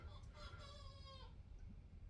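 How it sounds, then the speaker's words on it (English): A rooster crows outside a window, one drawn-out crow that rises and falls, heard faintly and somewhat distant over a low room hum. "Oh, I got a rooster out the window there."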